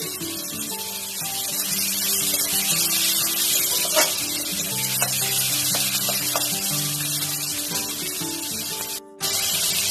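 Tomato pieces for a bhetki fish curry with mustard and cumin paste sizzle and fry in a hot pan, a loud continuous hiss with small crackles and stirring clatter, briefly cut off near the end.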